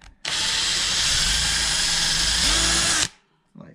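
A power drill whirs loudly and steadily for about three seconds, then stops, leaving near silence.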